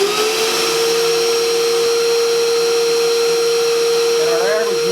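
An airflow test rig pushes air through a K&N oiled cloth filter cartridge, producing a loud, steady motor-driven roar with a constant high whine that runs unbroken throughout, with no voices.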